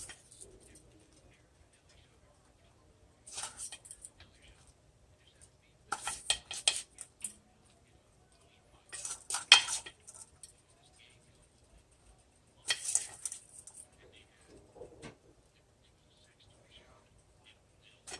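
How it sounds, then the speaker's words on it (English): A utensil spreads a creamy topping over an asparagus casserole in bursts of close scraping and clinking against the dish, with quiet pauses between strokes. "we're going to spread this on top of here"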